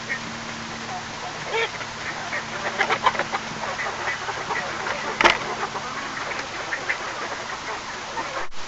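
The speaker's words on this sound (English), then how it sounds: "I'm just gonna let my chickens and ducks out." Scattered duck quacks on a homestead come through at moderate distance over outdoor background noise, with one sharper call standing out midway.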